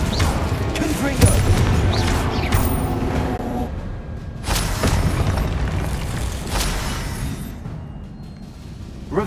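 Confringo blasting spell in the game Hogwarts Legacy, a series of heavy booming explosions and crackling bursts layered over continuous battle noise, loud and close with no talking.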